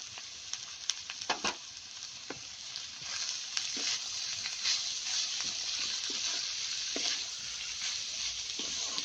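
Spices for veg chowmein sizzle and fry in a hot pan while a spoon stirs and scrapes, a steady hiss with irregular clinks, close and alone without speech.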